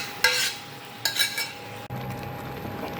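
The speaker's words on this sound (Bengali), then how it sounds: "এবার এই ডালটা এর মধ্যে ঢেলে দিচ্ছি।" Lentil dal poured into a pan with grated ginger. It starts with two short scraping, clinking bursts of utensil against pan, then gives way to a soft, steady bubbling simmer.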